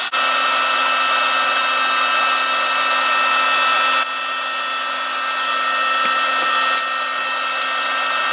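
A heat gun warms Velcro tape for floor mats in a Ford F150, a loud steady blowing whine that drops slightly in level midway and keeps running.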